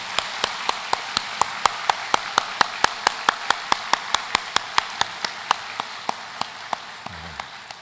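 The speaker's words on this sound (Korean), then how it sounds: "다시 한번 우리 축하하고 격려하는 박수를 보내도록 하겠습니다." A church congregation claps in a steady, evenly spaced rhythm of sharp claps that fills the room and carries on for several seconds before tapering off, with no talking over it.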